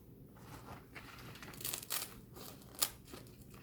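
Scissors cut through paper in a few crisp, close snips mixed with light crinkling, with no one talking.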